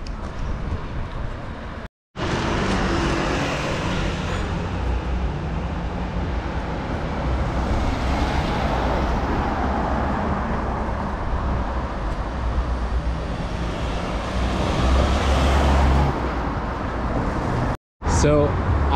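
Busy London bus station with a steady wash of road traffic and engine rumble, continuous and moderately loud, with a voice talking over it.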